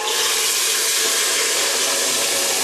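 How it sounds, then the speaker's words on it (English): Tomatoes go into hot oil in a home vegetarian kitchen, setting off a steady, bright hissing sizzle that holds evenly and fairly loud throughout, with no talking over it. "That'll sizzle because it's oil and you add in water to oil."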